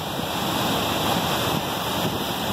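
Sea waves break hard and churn up foam along the coast of Rio Grande do Sul, a continuous loud rushing wash with wind buffeting the microphone throughout.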